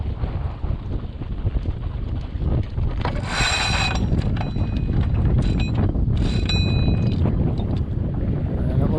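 A sailboat comes through a tack in strong wind: heavy wind buffeting and water rush dominate, with brief clanking and rigging rattles mid-way, close and loud throughout.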